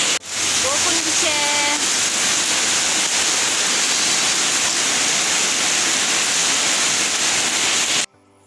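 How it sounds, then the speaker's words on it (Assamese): Steady, dense rain pours down outdoors during a thunderstorm, a loud continuous hiss that fills the whole stretch, with a few brief bird chirps near the start before it cuts off abruptly at the end. "বৰষুণ দিছে"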